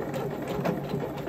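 A sewing machine steadily stitches bunting fabric, backstitching at the very end of the seam in a short, continuous mechanical whir.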